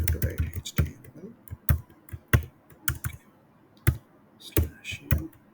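Java code being typed on a computer keyboard, close and clear: irregular bursts of sharp key clicks with short pauses between them.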